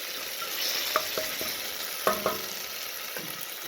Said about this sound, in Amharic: ቲማቲሜና ሽንኩርቴ በደንብ ተቁላልቷል ማለት ነው።